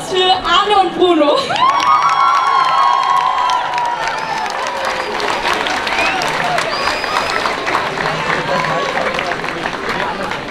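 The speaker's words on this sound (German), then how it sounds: "Einen ganz, ganz großen Applaus für Arne und Bruno." A large outdoor climate-strike rally crowd in Berlin cheers and claps for two singers, with loud whoops and shouts rising over continuous applause, then settling into a steady clapping roar with voices mixed in.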